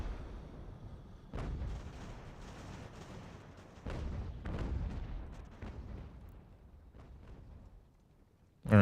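Massed musket volleys from troops in Ultimate General: American Revolution, with rolling distant booming bursts and crackling rifle fire that swell and fade repeatedly over a noisy battlefield rumble.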